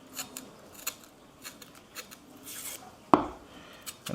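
A vegetable being peeled for beef stroganoff cooked in a Dutch oven gives faint, scattered scraping strokes in a quiet kitchen, with a sharper scrape near the end.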